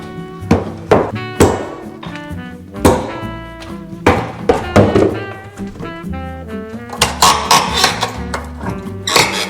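Drywall being knocked loose: repeated heavy thuds and knocks, irregular and close, with rattling debris and clattering pieces between the impacts.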